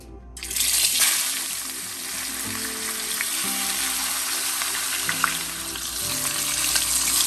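A large salmon head rubbed with salt and turmeric sizzles hard in a frying pan, a loud, close, continuous crackle with faint pops and stirring noises and no voices.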